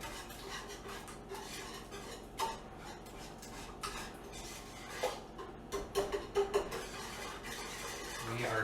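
Butter chunks folded into buttermilk blueberry puff dough in a bowl, heard as soft scraping and stirring with light clicks of a utensil against the bowl, near and quiet, without talk.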